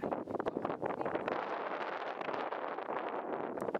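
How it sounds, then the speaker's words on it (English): Strong wind gusts into the microphone at an outdoor horse round pen, a loud, rough, continuous rumbling buffet with no other sounds clearly audible. "So you can hear that the wind is pretty bad,"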